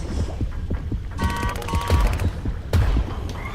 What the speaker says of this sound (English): This is an automated machine gun